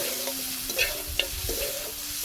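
Meat braised in a pan and stirred steadily: a dense, close sizzle fills the clip while a spoon scrapes and knocks against the pan in a loose rhythm, with no voices.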